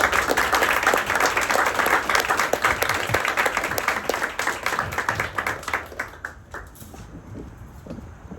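A poetry reading audience applauds a guest, dense clapping that holds strong for several seconds, then thins and fades to scattered claps near the end.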